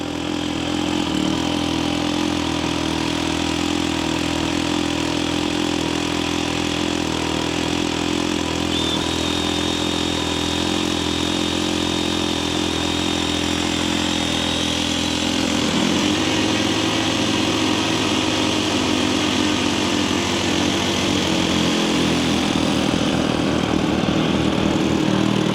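Nitro glow engine on a Grumman Skyrocket model airplane running continuously, a loud, steady high-pitched buzz close by with slight shifts in pitch as the throttle changes, and no speech over it.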